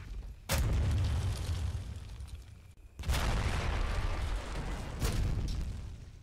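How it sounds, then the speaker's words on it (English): Artillery shells land with deep booms in the Combat Mission Fortress Italy war game, three separate heavy impacts spaced a couple of seconds apart, each followed by a long rumbling roar. "enemy artillery comes into play"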